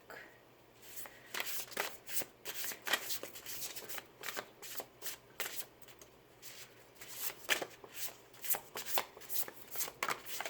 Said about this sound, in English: I'm going to be starting the reading with an oracle card from the Shaman's Dream Oracle deck.